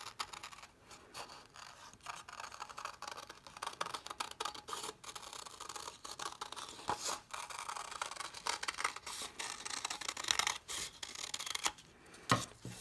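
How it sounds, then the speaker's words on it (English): Scissors cut out a paper bird body, producing faint, close snips and crisp paper scratching and rustling in irregular bursts, quiet with no talking. "And cut out the bird's body."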